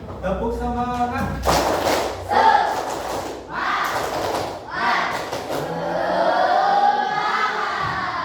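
Students in a classroom clap and chant the tepuk semangat rhythm, with loud group bursts of claps and shouting broken by brief pauses, following a single voice leading in.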